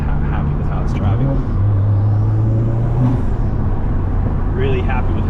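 A car engine with a Cobb NexGen Stage 2+ tune drones steadily from inside the cabin with a low exhaust rumble and shifting revs as it drives along.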